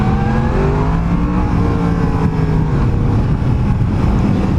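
A Yamaha FZ-10 motorcycle engine drones steadily while riding, loud and close, with a sustained throaty hum and shifting tones as revs rise and fall, over constant wind rush and no voices.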